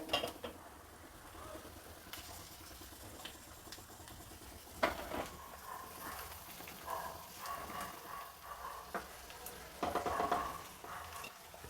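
Heated semolina being poured into boiling water in a pan for traditional sour upma, with scraping stir strokes and soft clatter against the pan alongside a low bubbling hiss, fairly quiet and with no talking.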